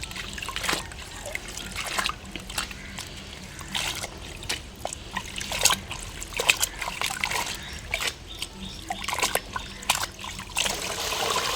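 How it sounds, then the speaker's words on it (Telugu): Fresh coriander bunches being washed by hand in a vessel of water, with steady trickling, splashing and sloshing throughout and brief louder splashes scattered among them, close by. "ముందుగా ఈ కొత్తిమీరని నీటిలో కడిగేసుకుందాము."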